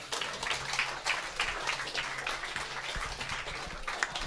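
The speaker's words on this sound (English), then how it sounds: "Give yourself a round of applause." Wedding guests applauding during the speeches, a soft, distant patter of clapping that holds steady for several seconds with faint crowd murmur beneath.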